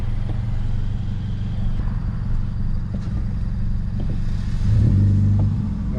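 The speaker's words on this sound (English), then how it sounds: "Car sounds so good. Pretty much still stock exhaust, just muffler delete and resonator delete." A Scion FR-S with a stock exhaust, minus its muffler and resonator, drones in a steady low rumble from inside the car while cruising, then swells into a louder rev near the end.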